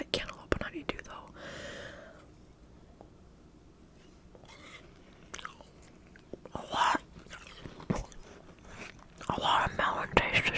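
Close, quiet biting and chewing of a melon-flavored popsicle, with scattered crunches and mouth sounds under soft whispering.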